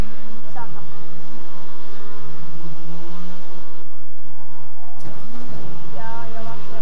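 Racing car engine from the WRC Powerslide video game, a loud, steady droning roar with rising and falling revs throughout as the car drives, with no pauses.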